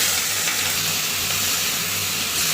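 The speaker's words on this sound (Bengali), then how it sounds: "চিংড়ি মাছগুলো ভাজা হচ্ছে এখন" Shrimp frying in a pan, a steady close sizzle and hiss running without a break, with no talking.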